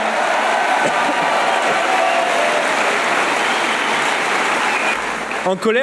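Loud, dense applause from a large crowd at an evening political rally in honour of angry farmers, steady and continuous, fading toward the end as a voice begins.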